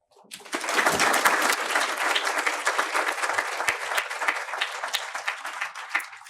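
A conference audience bursts into sustained applause for keynote speaker General Jennie Carignan, dense and loud clapping that holds steady for several seconds before tapering slightly.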